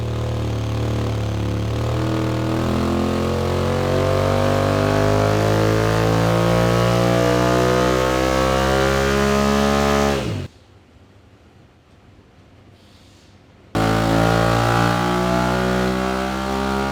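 A motorcycle fitted with a Talon Trinity exhaust revs hard on a dyno, a loud sustained engine roar climbing steadily in pitch for about ten seconds, then cutting abruptly to near silence before the engine noise returns.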